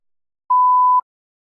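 A single clean electronic beep sounds alone for about half a second, steady in pitch and loud against total silence.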